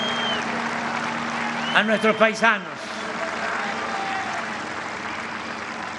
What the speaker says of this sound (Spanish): Un aplauso a los migrantes,